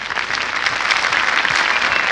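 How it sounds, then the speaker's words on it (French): A studio audience on a 1981 French children's television talent show applauds loudly and steadily, a dense wash of clapping hands filling the whole moment without pause. "On applaudit très fort ce garçon."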